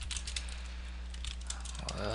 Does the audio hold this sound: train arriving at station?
no